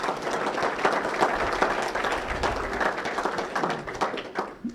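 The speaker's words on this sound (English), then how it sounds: "Let's give a round of applause for all of our coaches in athletics." Audience applause at a university athletics fall media day honoring the coaches: sustained clapping from a sizable crowd with sharp individual claps standing out, fading slightly toward the end.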